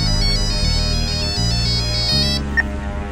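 A phone ringtone plays loudly and close for an incoming call. It is a repeating electronic tone pattern that continues steadily, with no talk over it.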